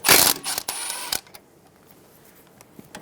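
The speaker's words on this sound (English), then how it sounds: "Using a 12mm socket, remove the bolt for the ABS and brake line brackets." A socket wrench with a 12mm socket ratchets loose a bolt on the ABS and brake line brackets of a 2007-2011 Toyota Camry during front hub work, giving a loud burst of clicks and then a few faint isolated ticks.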